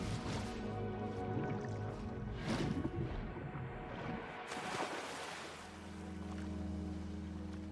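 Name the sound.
falling into water in video game Wuthering Waves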